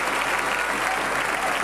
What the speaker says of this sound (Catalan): Aplaudiments a la plaça de la Vila, no hi ha per menys.